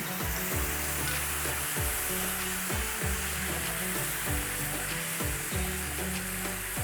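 Boiled coconut milk sizzles and bubbles as it is stirred into a hot pan for Pontianak-style bingka cake, a steady, loud frying hiss with rhythmic scraping strokes close by and no talking.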